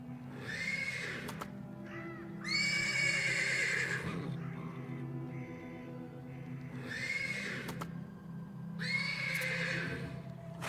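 A horse neighs loudly several times in bursts from stables in a video game, with faint hoofbeats and a steady low rumble of background ambience between the whinnies.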